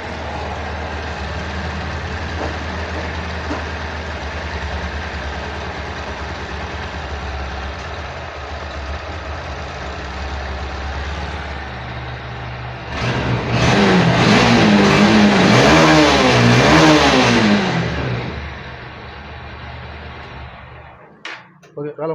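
A Honda BS6 motorcycle engine runs at a steady idle, then revs hard for several seconds and settles back down, heard close up with the rev burst loudest near the end.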